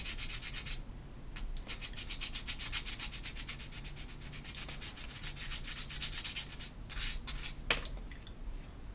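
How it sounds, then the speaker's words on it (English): A thin layer of cane is scraped off a bassoon reed in fast, rhythmic strokes, each a short close rasp repeating steadily with brief pauses, fairly quiet and with no talk. "we're just taking off a small layer of cane. Just to smooth it out."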